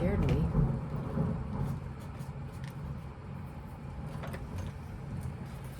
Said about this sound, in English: I'm not afraid of thunder